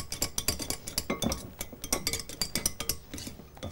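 A spoon clinks rhythmically against a bowl while stirring a thick homemade ice cream mixture made from meringue, giving quick, close, repeated taps and scrapes with no talking.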